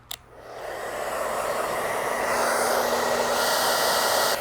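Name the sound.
blow dryer running on high heat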